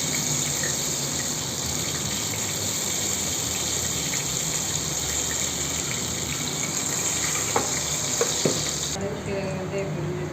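About 50 grams of cooking oil is poured into a pan on a stove to temper sambar, giving a steady hissing, rushing pour that runs throughout, with a couple of faint clicks near the end.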